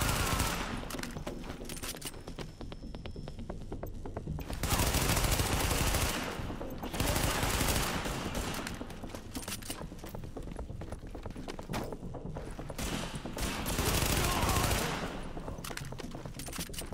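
Rapid automatic gunfire from Tom Clancy's The Division, with dense bursts of shots repeating over several seconds in loud, sustained stretches.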